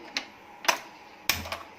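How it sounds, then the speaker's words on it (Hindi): A gas stove is lit with a few crisp, close clicks spaced unevenly over a second or two, with a brief low whoosh after the last one. "गैस चलाएंगे"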